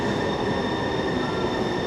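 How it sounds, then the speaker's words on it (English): A train passes through a station, giving a loud, continuous rumble of wheels on rails with a thin high metallic squeal held steadily over it, close by and with no talk. "We're just waiting at the train station for now."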